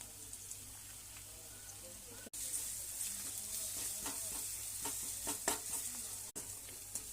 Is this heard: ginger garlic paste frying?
yes